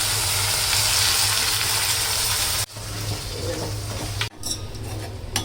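Onions and mutton sauté in a kadai, making a continuous close sizzle with stirring scrapes. The sound cuts off sharply twice before resuming.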